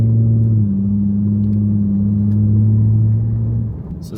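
Deep droning exhaust note from a Toyota Tundra with an AWE Tuning catback exhaust, cruising in sport mode on a dirt road; a steady, close rumble holds for several seconds before easing off near the end, with no voices.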